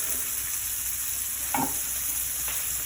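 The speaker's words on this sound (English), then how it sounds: "That sizzle means my pan's nice and hot." Chicken sizzles in hot oil in a frying pan for sweet and sour chicken, giving a steady, bright hiss with a couple of brief stirring scrapes.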